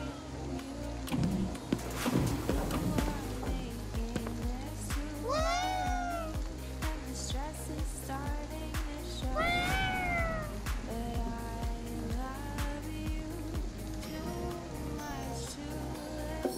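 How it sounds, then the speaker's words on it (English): A cat yokai meows a few times in Ghostwire: Tokyo, short rising-falling cries over a steady game soundtrack of music and ambient hum. "Is that a cat? Technically, it's a yokai."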